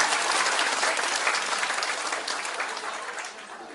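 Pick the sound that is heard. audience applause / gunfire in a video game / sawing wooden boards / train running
audience applause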